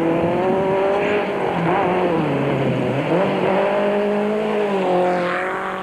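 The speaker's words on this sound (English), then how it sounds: "Steve Parker and VZ Von Sale were favoured to win Class 7 in the VW buggy and were soon locked in battle with the SVM Jeep" Off-road rally vehicles, a VW buggy and a Jeep, racing at Trans Tongaland 1991: loud engine drone with rising and falling revs as the vehicles drive hard, continuous and close, with no speech.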